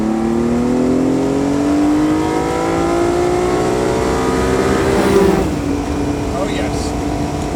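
Ferrari Dino 246 GTS with its 2.4 engine revs up while driving, a loud, close, rising engine note climbing steadily for several seconds, then dropping back after a gear change.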